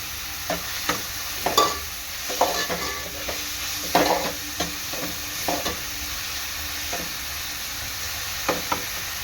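Onions frying in a pan for an Agri-Koli style chicken curry, stirred with a spoon in repeated scraping strokes over a soft steady sizzle, close and fairly quiet, with no talk.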